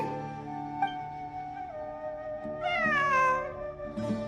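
A cat meows in the video game Genshin Impact: a drawn-out, fairly close meow with a falling tail, followed by the start of a second cry, alone with no talk.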